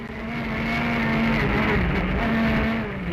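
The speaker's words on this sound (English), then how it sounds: "The Imperial Toyota Yaris of Dakar legend Janelle de Villiers and Greg Godrich is the next car on the road" Toyota Yaris S2000 rally car on a 2013 rally stage, its engine holding a loud, steady, droning note that stays close and continuous throughout, with no talking.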